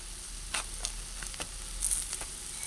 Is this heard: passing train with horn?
no